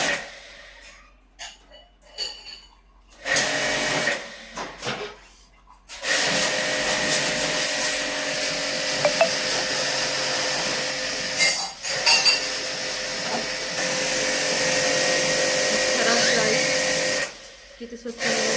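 An air conditioner being cleaned by a washing machine during servicing gives a long, steady spraying hiss lasting several seconds, preceded by people talking and a few short bursts.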